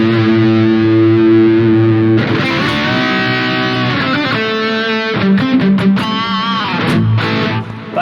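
Distorted electric guitar using the Shiva preset on a Fractal FM9 plays a fat 80s rock lead, sustained notes first, then bent and vibrato-laden phrases with reverb.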